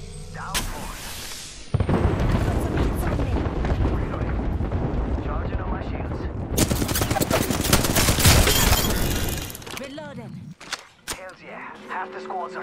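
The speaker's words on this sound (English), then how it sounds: "Taking fire." Heavy gunfire in an Apex Legends gunfight, with loud overlapping shots, bursts and explosive blasts building to an intense rapid barrage midway, then tapering into scattered shots and game sounds, with a voice speaking at times.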